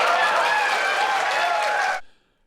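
Crowd applauding and cheering at a CNN town hall with Donald Trump; loud, dense applause with voices mixed in, holding steady for two seconds then cutting off abruptly to silence.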